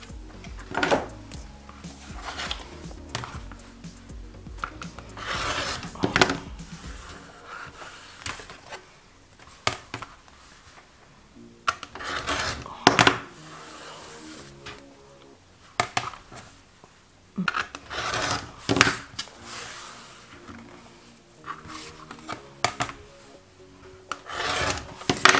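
Rotary cutter and ruler trimming a disappearing hourglass quilt block on a cutting mat, giving repeated close rasping, rubbing strokes in irregular bursts with brief pauses, no talking.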